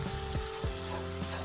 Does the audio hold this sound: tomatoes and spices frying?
yes